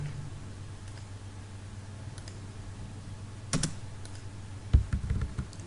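Keystrokes on a computer keyboard entering the TR trim command in Civil 3D 2018, then the Enter key struck twice, quiet clicks over a steady low hum.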